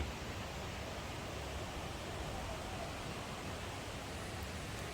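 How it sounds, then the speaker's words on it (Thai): A waterfall near a budget resort gives a steady, even hiss of rushing water, faint and distant, with no break and no voices. "ได้ยินเสียงน้ำตกไหมได้ยินแล้วเนาะ"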